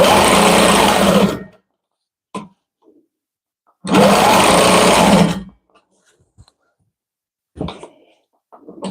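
A quilting machine stitches in two bursts of rapid, buzzing needle action, each lasting over a second, separated by quiet pauses with faint handling clicks.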